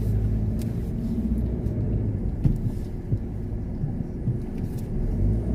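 A car reverses onto a residential driveway, giving a steady low engine rumble and idle throb close by throughout, with a few light knocks and no voices.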